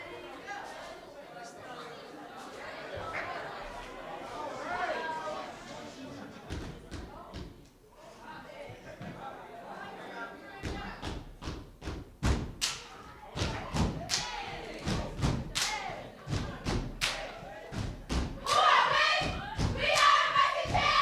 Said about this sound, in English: Joe, we want you to do a quick cheer for us.